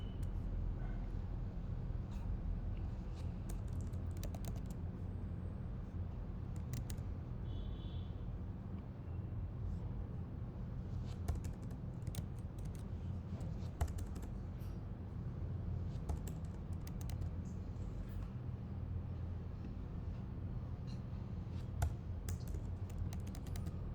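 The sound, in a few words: typing on a computer keyboard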